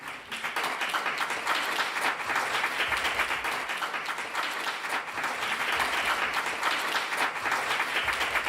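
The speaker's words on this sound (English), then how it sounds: "Round of applause for Shane." Sustained applause from an audience at an awards event in Edinburgh, dense and steady clapping filling the room for several seconds, fairly close, with no speech over it.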